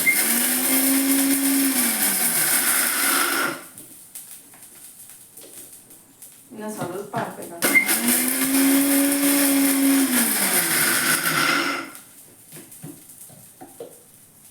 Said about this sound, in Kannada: ನೋಡಿ ಇವಾಗ ಮಿಕ್ಸಿ ಮಾಡ್ತಾ ಇದ್ದೀನಿ